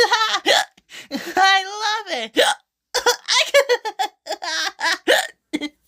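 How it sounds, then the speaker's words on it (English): Repeated hiccups break up a stretch of close, lively speech; someone talks throughout, with sharp catches in the voice and a hint of laughter. "I got the hiccups."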